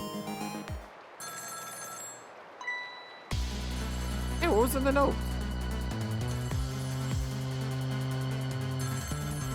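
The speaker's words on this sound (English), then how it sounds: "Here's the phone ringing." A telephone rings repeatedly in the puzzle game Ghost Trick, bright electronic trills over steady background music, with a person speaking briefly before the ringing.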